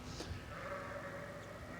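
Faint sheep bleating at a distance near Dogtown Lake at about 5 in the morning, a couple of short calls over a low steady background hum.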